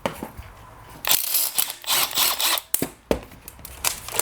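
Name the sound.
impact wrench removing bolts from John Deere tractor engine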